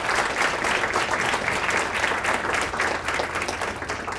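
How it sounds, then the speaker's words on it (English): Audience at a culinary college event applauding the Dean of the College of Culinary Arts, Chef Kevin Duffy; a full, continuous round of clapping with some individual claps standing out, steady and close. "Everybody give Chef Duffy a round of applause and good morning."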